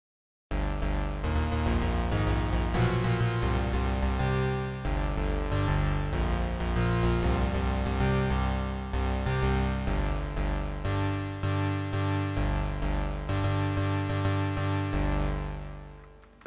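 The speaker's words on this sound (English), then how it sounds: "So I made another preset with this called chordal bass." An Ensoniq EPS-16 Plus sampler plays a chordal bass preset built from a sine wave with added harmonics, sounding sustained chords that shift every second or two for about sixteen seconds, full and steady before fading out.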